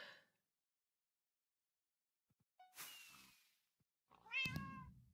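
A short, bright cartoonish cat meow from Minecraft rings out near the end, preceded by a whooshing sweep of fireworks and a few soft clicks in otherwise quiet surroundings.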